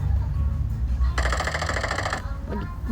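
Rapid automatic gunfire rattles steadily through the middle of the passage over a low game-music bed, with a fast gun in a video-game match firing a dense, continuous burst.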